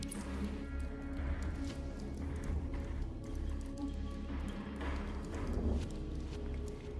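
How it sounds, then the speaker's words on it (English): Rapid footsteps rush up in the video game Aether Gazer, a steady clattering run heard under a dense, continuous rumble of background game sound. "he hears footsteps rush up behind him"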